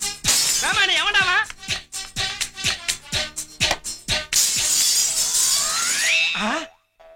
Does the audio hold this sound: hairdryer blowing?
no